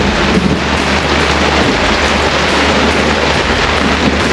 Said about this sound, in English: another rainstorm's come